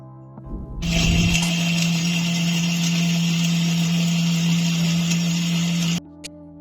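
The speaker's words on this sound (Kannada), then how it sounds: "ಈಗ ಗ್ರೈಂಡ್ ಮಾಡ್ಕೊಳ್ಳೋಣ" A mixer grinder blends a masala paste with rock salt and a splash of water for a jackfruit seed gravy, a steady loud whirring motor hum running for about five seconds before cutting off abruptly.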